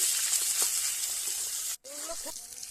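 Eggplant slices fry in oil already used for frying fish, a loud, close, continuous sizzle broken by a brief cut, then resuming with faint utensil clinks and a quiet voice.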